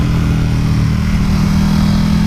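A KTM Superduke motorcycle engine runs with a steady, loud low rumble, held at an even pitch throughout.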